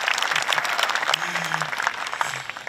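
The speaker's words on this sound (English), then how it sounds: "We can give him a round of applause" A round of applause from the crowd at a 2024 high school graduation ceremony, a loud burst of many hands clapping with faint voices mixed in.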